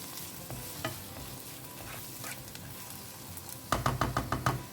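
Clams cooking with kokum in a pan, stirred with a quiet sizzle and a few light scrapes before a burst of fast, close knocking strokes near the end.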